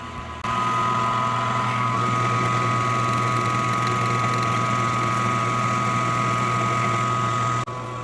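A metal lathe runs a boring pass on a part, giving a steady, loud mechanical whir with a constant hum. It starts abruptly, runs evenly, and cuts off just before the end.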